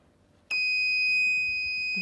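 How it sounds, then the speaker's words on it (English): Smoke detector buzzer set off by burning tissue, a sudden shrill continuous electronic tone starting abruptly after a short quiet moment and holding steady and loud. "we're expecting the buzzer to make sound"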